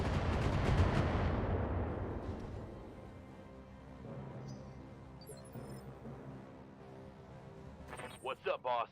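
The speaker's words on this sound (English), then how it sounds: "Ryland will be firing his missiles at this longbow" Missile salvo from a mech in the Battletech game, Extended 3025 mod: a loud, rumbling barrage of launches and blasts that fades over several seconds, followed by quieter game sounds and a short burst of radio-like voice at the end.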